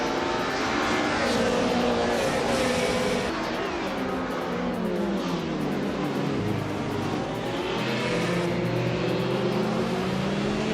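Several race car engines roar together in a racing video game, with overlapping revving and shifting pitch as cars jostle, a continuous loud drone with no voices.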